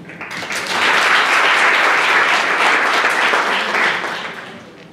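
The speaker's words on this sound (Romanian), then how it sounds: "am să vă rog să-l aplaudăm călduros" A conference audience gives warm applause as a speaker from a Kaizen Institute event is introduced, dense sustained clapping that swells within the first second, holds steady for several seconds, then tapers off.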